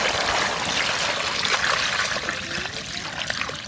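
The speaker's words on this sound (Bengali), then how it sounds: "দাও পরিমাণ মতন দাও, ঝোল দাও। জল দিয়ে ঝোল করবো।" Water pours into a pot of khichuri gravy being cooked in a village for Laxmi puja, a steady close trickle and splash lasting a few seconds.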